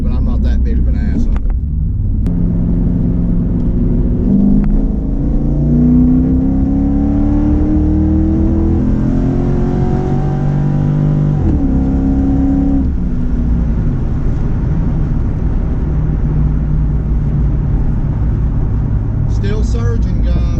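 A Chinavette sports car fitted with a nitrous kit roars loudly and continuously, its engine surging up and down in pitch and popping unevenly, close and dominant throughout.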